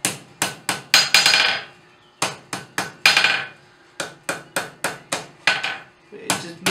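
Hot steel is struck on an anvil while a blacksmith forges the loop of a tong clip. Sharp, ringing hammer blows land in quick bursts of three to five strikes, separated by short pauses.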